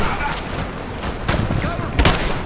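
Gunfire in the video game Rise of the Tomb Raider, a rough, continuous spray of shots with sharper bursts near the middle and end, mixed with voices shouting.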